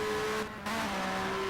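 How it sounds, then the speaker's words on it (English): A Ford touring car racing at Oulton Park in the 1996 BTCC season, its engine holding a steady, loud tone with a brief dip in the middle of a short burst. "Really fantastic sounding engine."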